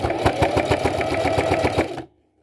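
A sewing machine stitching a straight stitch through apron fabric, giving a close, loud, rapid and even mechanical rattle for about two seconds before stopping abruptly into silence.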